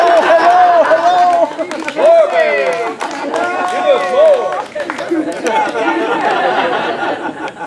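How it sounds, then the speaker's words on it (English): Wedding guests cheer and chatter loudly at close range after the couple's first kiss, voices overlapping in excited babble with some clapping mixed in. "And we all cheer."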